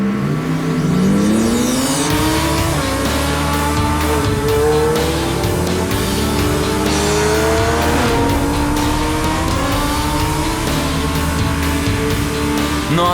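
A Lamborghini sports car accelerates hard, its engine note climbing through rising revs with tire squeal, loud and sustained for the whole stretch.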